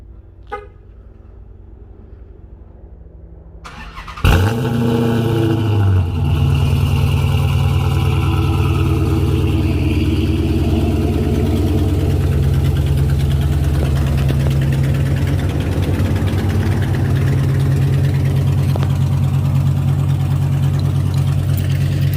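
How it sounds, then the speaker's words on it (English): A 2008 Dodge Charger R/T Daytona V8 fires up cold with a sudden starter catch and loud burst, then settles into a steady, deep idle that runs on alone. "Let's just give it a cold start to end the video."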